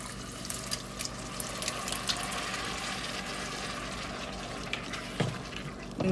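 Canned diced tomatoes pour into a pot for homemade chili, a continuous wet, sloshing pour with soft splatters running steadily for several seconds, fairly close and moderately quiet.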